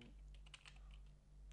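Quick, soft keystrokes on a computer keyboard typing a hashtag, a short cluster of light clicks, close but faint over a steady low electrical hum.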